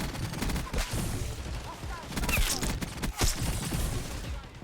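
Enemy gunfire in Black Ops 6, with dense, continuous bursts of shots and impacts crowding together over a few seconds at close range.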